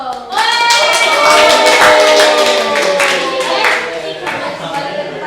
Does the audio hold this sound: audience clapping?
yes